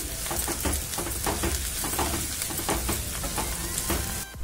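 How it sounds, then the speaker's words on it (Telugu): Ginger garlic paste fries in a pan for mutton fry, a steady busy sizzle with scattered crackles and pops running throughout, close and fairly loud, ending with a brief clatter. "అల్లం వెల్లుల్లి పేస్ట్ వేగింది"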